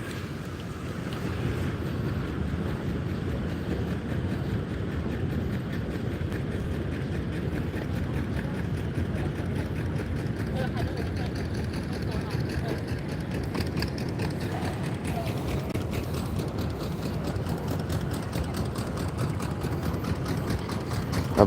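A boat engine chugs along on the river by Da Nang's Dragon Bridge, a low, steady rumble heard from the riverside under constant wind buffeting on the microphone, with no talking.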